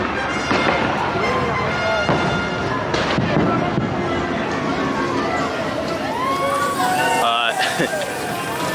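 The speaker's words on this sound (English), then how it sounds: "Fireworks." Fireworks burst at night over Hollywood Studios, with repeated booms and crackles layered over a noisy theme-park crowd murmuring and calling out nearby.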